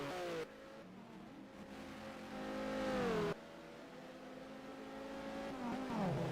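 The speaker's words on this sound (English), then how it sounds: "Let's have a look at Gosling coming into the pits." In the FIA GT racing game, set at Zolder in 2000, a race car's engine whines as it drops through the gears while entering the pits, fairly quiet and steady, with its pitch sliding down and then climbing again.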